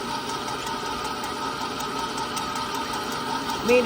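A stand mixer running at medium speed while kneading bread dough made with fresh milled wheat flour gives off a steady, even motor hum with a faint rhythmic rattle, close by and unbroken.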